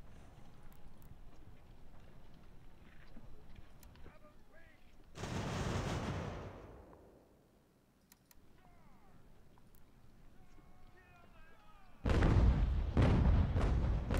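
Musket and cannon fire from an American Revolution battle in Ultimate General, loud broadband volleys in two bursts, one near the middle and a heavier sustained barrage at the end, over a steady battlefield murmur.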